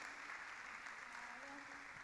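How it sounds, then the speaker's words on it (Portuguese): A church congregation applauds during a training session on atypical people, with soft, steady clapping heard at low volume from across the room. "Aplaude o Senhor pela vida de Amanda."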